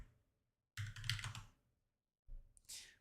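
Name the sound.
typing on a computer keyboard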